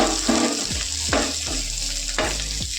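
Potato frying in hot oil with asafoetida sizzles steadily and close, with a few clinks from a utensil against the pan as it is stirred.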